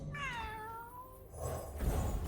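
A cat meows in the Path of Champions mode of a card game, one clear drawn-out call that falls in pitch, followed by louder game sound effects and clatter.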